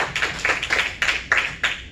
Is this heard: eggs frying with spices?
no